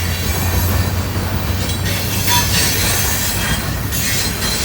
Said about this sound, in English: That's why you hear them notching up.